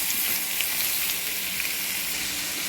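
Tomatoes hiss and crackle in hot oil in a frying pan with onion, a steady close sizzle that holds at an even level throughout with no voices.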